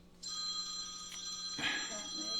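A telephone rings in a home kitchen, its bright electronic bell tones sounding clearly over a steady background hum, with one ring burst followed by another.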